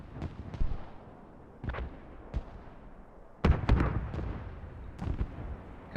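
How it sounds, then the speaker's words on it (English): Tanks trade cannon fire in the video game Squad, a series of sharp, booming shots with rolling echoes, some distant and some closer and louder, spaced irregularly over a steady low rumble. "Couple tanks fire at one another."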